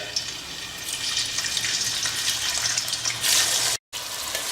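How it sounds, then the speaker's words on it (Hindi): Chopped onions dropped into hot oil for chicken handi, giving a steady, close hiss and sizzle that runs without pause, with a brief break near the end. "हमारा तेल बहुत बढ़िया गर्म हो गया। अब इसके अंदर धीरे से ये प्याज जो है चॉप्ड प्याज"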